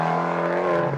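A turbocharged Fiat 500 Abarth subcompact gets a quick throttle blip during heel-toe downshifting, with a loud, steady, buzzy exhaust note held close and continuous through the whole second.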